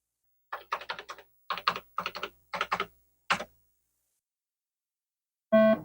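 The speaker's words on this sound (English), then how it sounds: "Keyboard's working." Keys on a TI-99/4A home computer keyboard are tapped in short bursts of close, crisp clicks with brief pauses between groups, then a beep-like tone sounds at the end.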